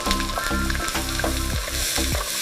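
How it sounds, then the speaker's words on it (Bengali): Chopped onions fry in hot oil in a wok, a loud steady sizzle running throughout with repeated low thumps and scrapes as they are tossed and stirred. "কড়াইয়ে তেল গরম করে পেঁয়াজ কুচি ভেজে নাও"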